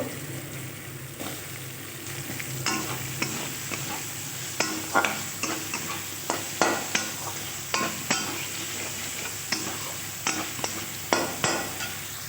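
Potato pieces frying in spiced masala in a pan, stirred repeatedly with a spatula that scrapes and clinks in an uneven rhythm over a steady close sizzle; no talking.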